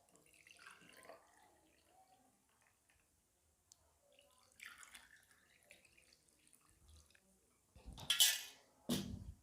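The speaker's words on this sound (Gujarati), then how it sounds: "ચાલો હવે આપણે આપણો લીંબુ શરબત નાખીશું" Lemon sharbat is poured over ice cubes in a glass: soft clinks and drips in a quiet room, then two short, splashy bursts of liquid near the end.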